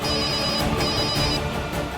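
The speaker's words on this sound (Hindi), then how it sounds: "किसका फोन है?" A phone ringtone plays in a domestic drama scene, a steady repeating electronic tone sounding moderately loud over soft background music, with no talking.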